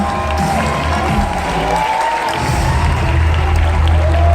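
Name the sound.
audience applause for athletes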